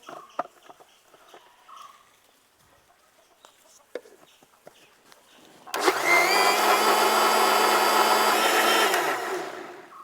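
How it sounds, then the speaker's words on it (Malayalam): An electric mixer grinder blending milk sarbath ingredients in its jar starts up after some quiet handling clicks, then runs as a loud, steady, high whirring drone for about three seconds before winding down. "ഇനി നമുക്കിത് മിക്സിയിൽ വെച്ചൊന്ന് നന്നായിട്ട് അടിച്ചെടുക്കാം."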